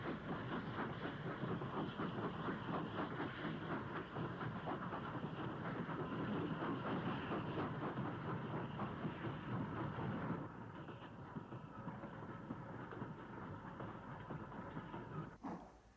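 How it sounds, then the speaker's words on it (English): Class 92 electric locomotive hauling a freight train slowly through a station, a steady loud rumble with rhythmic wheel clatter that drops in level partway through and continues to the end, with no voices. "92238 runs slowly through the station with a freight from West Depot to the Midlands Westerly"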